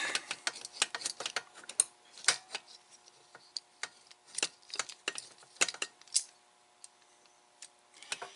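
Deburring the cut end of aluminum tubing with a tubing cutter's built-in deburring tool makes a run of quick, scraping clicks and ticks. They come in uneven bursts, close and fairly faint, with no talking.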